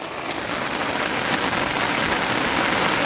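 Rain pours down in the Gir forest, a dense, even hiss of drops striking the ground and nearby surfaces, loud and continuous with no talking.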